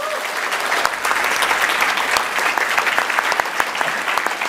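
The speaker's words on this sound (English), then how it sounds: "So give yourselves a big round of applause." A large audience at EGX applauding a Total War: Attila presentation, dense steady clapping that fills the whole stretch without a break.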